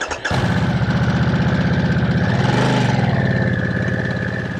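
A Harley-Davidson Nightster Special motorcycle engine catches and settles into a loud, steady, close-up rumbling idle with a brief rise in revs partway through, and no voices over it.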